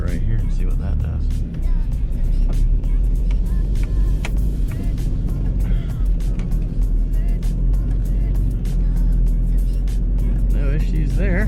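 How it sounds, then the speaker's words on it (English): A Mitsubishi Delica L300 4x4 turbo diesel drives off road in four-wheel drive, its engine a loud, steady rumble throughout with cabin rattles and bumps. "Guess we can try and put her in four-wheel drive now, and go through right here and see what that does."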